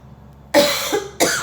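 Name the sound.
cough from allergy throat itch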